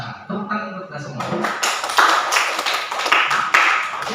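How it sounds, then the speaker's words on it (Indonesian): Applause breaks out among an audience at a teachers' sharing session in Indonesia, dense clapping building after a brief stretch of talk and continuing loudly to the end, with voices mixed in. "Tepuk tangan untuk kita semua"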